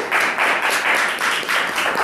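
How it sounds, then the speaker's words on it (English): An audience at an open mic poetry night applauds the next poet, a dense, close burst of steady clapping filling the whole moment. "now give a big round of applause for our next poet"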